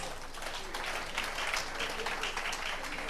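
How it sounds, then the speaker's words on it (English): Audience at a relaunch celebration for a herbal medicine mixture breaks into sustained applause, dense clapping from a crowd that stays steady for several seconds without speech. "I think we can all give a round of applause."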